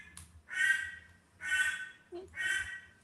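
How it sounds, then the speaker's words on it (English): Three loud, raspy quacks in a slow, even rhythm, close by, with brief quiet gaps between them. "hear my duck?"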